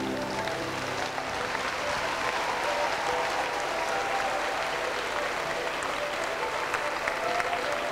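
Crowd at a skating opening ceremony applauding after a wave, a broad, steady roar of clapping that fills the whole stretch with scattered cheering and a faint voice at the start.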